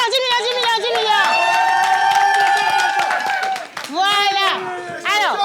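A live audience giving an ovation on a French entertainment show, with loud sustained shouting and cheering voices plus scattered clapping, swelling, briefly dipping, then rising again.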